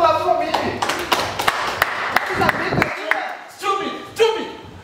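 A few people clapping their hands in a school setting, irregular sharp claps close by, loose and uneven, with voices talking and exclaiming between them.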